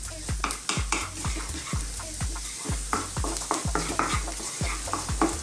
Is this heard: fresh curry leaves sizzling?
yes